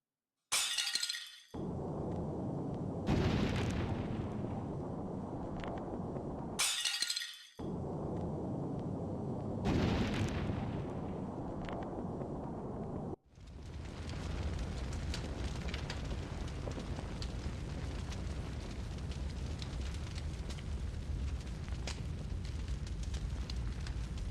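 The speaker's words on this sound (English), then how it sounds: "Is that fire?" Fire in the video game Octopath Traveler 0: loud bursts crackle and shatter like breaking glass, two sharp hits a few seconds apart followed by a sustained roaring, crackling rush that fills the rest of the scene.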